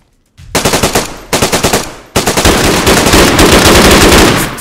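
A Bison submachine gun fires in the video game DayZ: three loud rapid bursts, the first two short with brief gaps, the last a long continuous stream of close automatic shots, no talk over it.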